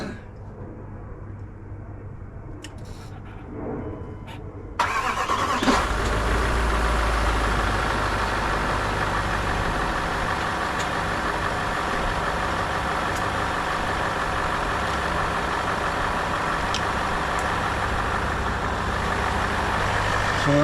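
A Range Rover L405 engine idles steadily close by, a low constant rumble that starts abruptly after a few seconds of quieter background and then holds an even level with no talking.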